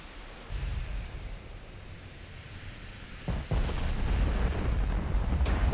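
Torpedo explosions hit warships in the naval battle game Ultimate Admiral Dreadnoughts: a low rumbling wash, then a sudden heavy boom midway that rolls on loud and dense to the end.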